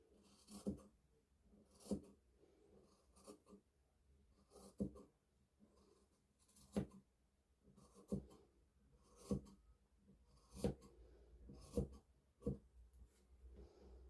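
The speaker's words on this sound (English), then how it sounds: "I'm just going to get my chalk, put that in place and mark that out" Tailor's chalk scrapes across fabric in short, soft strokes, a dozen or so faint scratchy marks at an uneven pace, close up and quiet.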